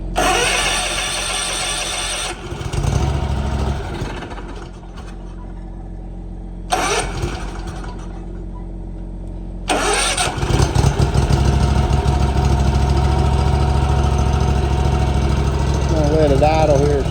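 A Kawasaki FR691V engine on a Hustler Raptor SD mower cranks in bursts, catches and settles into a loud, steady idle close by.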